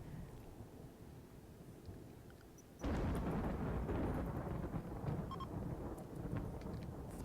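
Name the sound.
thunder of a flash storm in the video game RimWorld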